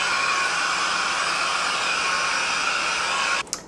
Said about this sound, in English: the fan is so loud